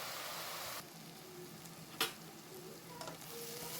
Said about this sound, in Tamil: ரெட்டிஷாக வர அளவுக்கு நல்லா வதக்கிட்டுக்கோங்க நல்லா வதங்கினா தான் கிரேவி நல்லா திக்காக வரும்